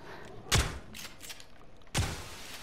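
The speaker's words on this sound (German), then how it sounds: "Okay, mit der Shotgun Einschuss." Two sharp shotgun blasts fired at sturdy Swedish window glass in the video game Generation Zero, about one and a half seconds apart, each a punchy thud with a short tail, between quieter bumps.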